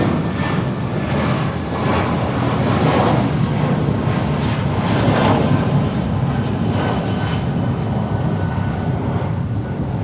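An airplane roars at Los Angeles International Airport, with a steady, loud engine rumble that holds throughout and no voices over it.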